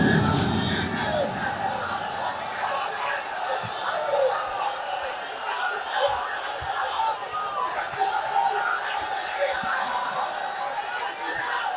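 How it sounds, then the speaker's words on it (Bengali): A large crowd at an outdoor religious sermon gathering in Sylhet shouts the takbir, producing a dense, sustained wash of many voices that swells and blends together at a moderate distance. "এখন একটা তাকবীর দেন মন ভরে"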